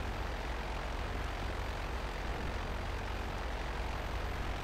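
A steady, droning airplane engine inside GTA 5 Online, heard from the back of the aircraft, holding an even, continuous tone with no talk over it.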